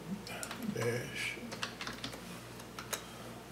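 Keystrokes on a computer keyboard while entering a Linux command on a low-cost Linux box, a short quiet run of clicks and taps with faint speech-like sounds early on.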